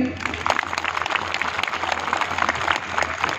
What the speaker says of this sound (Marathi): एका जोरात टाळ्या वाजवा सगळ्यांनी